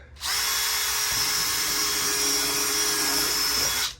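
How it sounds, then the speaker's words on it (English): A power drill whines at high speed in one continuous, loud burst lasting a few seconds, close by, then stops. "Now I can drill my hole."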